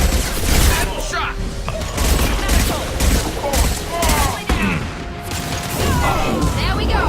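Rapid sustained gunfire from a Mass Effect 2 firefight, dense overlapping shots and booms loud and close throughout, with voices calling out over the shooting.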